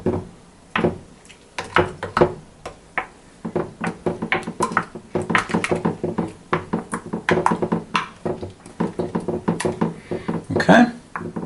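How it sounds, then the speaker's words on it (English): A wooden spoon knocks and scrapes around a bowl while ingredients are mixed, giving a fast, uneven run of close, sharp clacks and thuds that continues throughout. "Then I'll grab a wooden spoon out so I can mix all of this up."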